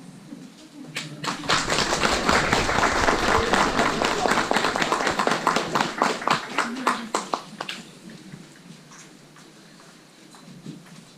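Audience applause at a village nativity play put on by children: dense, steady clapping swells over several seconds, then thins into scattered claps and fades out, with faint voices.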